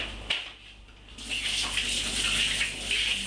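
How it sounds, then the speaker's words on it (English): Hands are washed under a running kitchen tap during casserole cooking, the water hissing and splashing steadily at close range after a brief clatter, with no speech. "Quickly wash my hands again."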